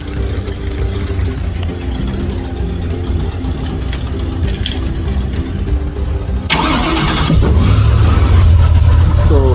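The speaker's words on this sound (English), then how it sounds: "Believe me guys, it's an unbelievably powerful engine we fly." A powerful airboat engine starts up on a nature tour, with a low rumble that rises into a louder, steady roar partway through, and a brief sweeping whine follows.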